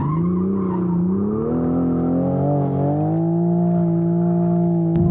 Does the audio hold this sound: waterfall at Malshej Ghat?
no